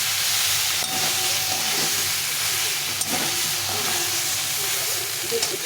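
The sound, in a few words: frying potato and soybean in masala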